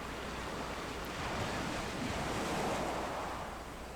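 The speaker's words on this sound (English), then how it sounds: "We also have some nice splashes of the waves crashing into the rocks." Waves splash and crash against rocks in the Second Life virtual world, a continuous broad wash of surf noise that swells gently in the middle, with no voices.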